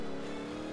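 Chevelle race car engine in a video game revving hard while drifting, a loud continuous high-pitched roar that holds steady through the short moment with no talk.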